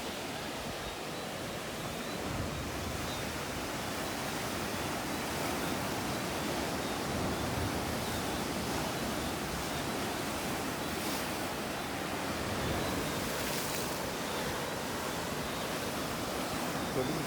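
Night surf rolls onto Worthing Beach in Christ Church, Barbados, a steady broadband wash of waves that holds at an even level throughout, with no clear individual breakers standing out.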